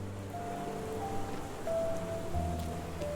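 Rain falling in the video game Sherlock Holmes The Awakened, a steady, even patter of rain with faint ambient tones beneath and no voices.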